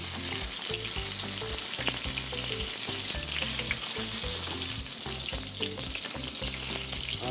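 Chicken frying skin-side down in a pan with garlic, a dense continuous sizzle with crackling pops and occasional stirring, close and loud with no talking.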